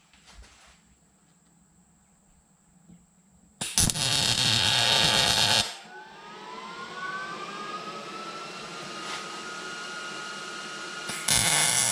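Tack welding a steel part on a John Deere No.5 mower pitman gives a loud, hissing crackle of a couple of seconds, then a fainter steady whine, and a second brief burst of welding starts near the end, with no talking.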